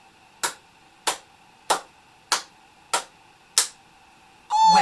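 Hand clapping during a Halloween music lesson: six crisp, evenly spaced claps with short pauses, close and alone, followed by a brief tonal sound.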